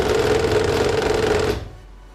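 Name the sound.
Fanatec CSL Elite wheel force feedback at default setting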